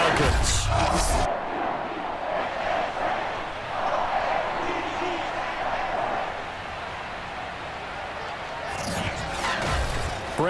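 Stadium crowd roaring in the Madden 23 football game as the Ravens and Falcons take the field in Baltimore, a steady broad wash of cheering with louder bursts at the start and end.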